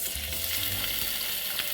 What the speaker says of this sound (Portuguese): vamos colocar nela um fundinho de azeite para a gente selar as nossas costelinhas